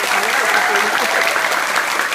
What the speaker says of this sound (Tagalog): Isa pa pong mas malakas at mas matunog ng palakpak.